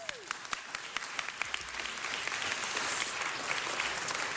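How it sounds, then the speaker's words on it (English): An audience at a Los Angeles City Council meeting in City Hall breaks into applause for River Day, the clapping fairly distant and modest, swelling and holding steady over a few seconds with a brief voice at the start. "Round of applause, please."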